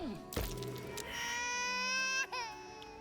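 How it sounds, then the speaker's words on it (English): Cats in Baldur's Gate 3 let out a long, wavering, weeping-like wail that rises and bends in pitch, with a sharp crack near the start and the cry trailing off at the end. "Stop crying, you weird cats. What's that ghastly sound? It sounds like weeping."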